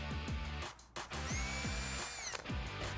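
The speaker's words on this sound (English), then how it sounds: "And we can drill our other hole." A power drill with a 3/32 or 7/64 inch bit drills a small pilot hole while a roll-bar-mounted LED courtesy light is fitted to a 2007-2018 Jeep Wrangler JK. A close, rising motor whine runs in short bursts with ratcheting clicks around it.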